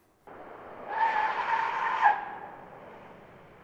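A car brakes hard on pavement without ABS, and its front tires lock up and squeal in one sustained screech that builds for about a second, peaks sharply, then fades out.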